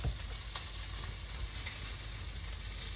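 Zucchini and squash sizzle steadily on an outdoor grill as the vegetables are flipped, a soft continuous hiss and crackle with a couple of faint knocks near the start and no talking.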